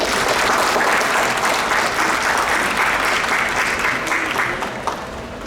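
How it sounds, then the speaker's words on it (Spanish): Strong, sustained audience applause for a book's author at a cultural association event, loud and dense from the start and tapering slightly near the end. "por favor, un fuerte aplauso de ambos"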